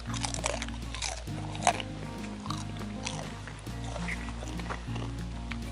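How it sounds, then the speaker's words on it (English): Close crunching and chewing of crispy food seasoned with Seminole Swamp seasoning and cooked over an old outdoor fireplace in the woods; several sharp bites and crackly chews sit over a low steady background hum. "You can hear how crispy those are, right?"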